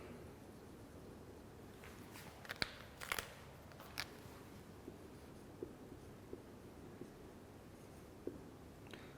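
Marker or chalk scratching on a board during a chemistry lecture: a few short, sharp writing strokes clustered early on, then sparse faint taps, over a quiet room hum.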